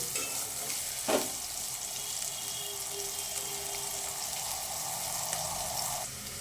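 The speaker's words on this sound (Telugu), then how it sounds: "ఇలా రెడ్గా ఫ్రై అయిపోతే క్రిస్పీగా బాగుంటుందండి కాకరకాయ ఎప్పుడు." Bitter gourd (kakarakaya) fries in a pan, a steady close sizzle and hiss with a brief knock near the start, then continuing evenly until the end.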